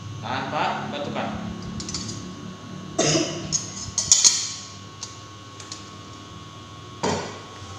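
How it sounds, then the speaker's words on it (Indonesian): A patient does an effective-cough exercise, drawing a breath, holding it, then coughing; a few short, sharp bursts stand out separately over a quiet room, with light clinks and taps in between. "Tarik nafas, tahan Pak, batukan."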